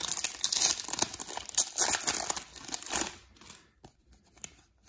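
A Pokemon card blister pack is torn open up close with loud, continuous crinkling and ripping of foil wrapper, which fades into softer scattered rustles toward the end.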